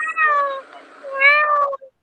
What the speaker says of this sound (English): Cat made the sound.